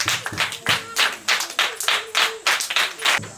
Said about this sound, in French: Applaudissez encore fort pour la compagnie Action d'Amour.